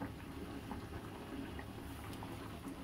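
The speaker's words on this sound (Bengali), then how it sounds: "ভাতও টকবক করে ফুটতে শুরু করেছে।" Rice boiling in a pot, a steady low bubbling and soft popping of water, with small splashes throughout and no talk.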